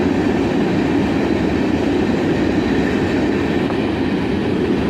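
A CSX ore train led by an ES44AC locomotive rolls past at sunset, giving a loud, steady, continuous rumble of wheels and cars with no voices.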